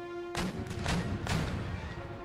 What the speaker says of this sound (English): Open fire! One gun firing.